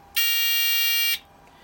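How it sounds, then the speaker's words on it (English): An Avire Memcom lift alarm buzzer gives one loud, harsh, steady electronic buzz lasting about a second, close and alone, then cuts off abruptly into quiet room tone. "holding in the lift alarm does that, which obviously is what it would do in a real life scenario"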